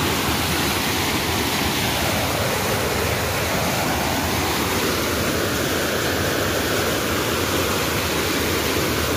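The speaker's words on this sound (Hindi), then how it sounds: "आज पानी ने फिर उखान लिया है, पानी की गति आज फिर तेज होते हुए" Fast-flowing water of the Luni river rushes at Govindgarh dam, a dense, steady roar like a waterfall, loud and close, continuous and unchanging throughout with no voices.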